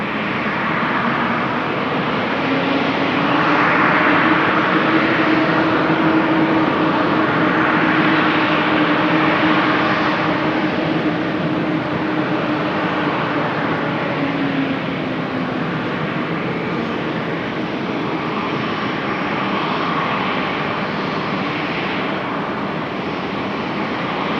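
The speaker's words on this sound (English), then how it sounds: "watch the arrival of Aegean flight 6120, an A320 arriving from Athens" An Aegean Airlines Airbus A320 arrives at Amsterdam Schiphol Airport in rainy weather, its engines a loud, steady, broadband roar that holds throughout with a slowly shifting whine.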